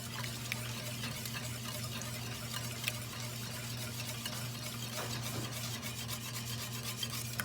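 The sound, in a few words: whisking milk into au gratin potato sauce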